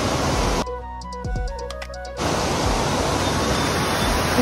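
Indrani waterfall, also called Rainbow waterfall, in Darjeeling roars as a loud, dense wash of rushing water close by, briefly dipping for about a second and a half before the full broadband torrent returns.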